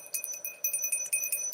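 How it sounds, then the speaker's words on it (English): A small ritual bell is rung repeatedly in a quiet room after a sacred-wood cleansing, giving bright, sustained metallic tones with several soft strikes about every third of a second. "And then I'm going to ring the bell."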